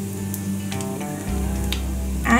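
Nigella seeds added to hot oil with carom seeds sizzle and crackle steadily, a close frying hiss with small pops under a low background hum that grows slightly louder toward the end.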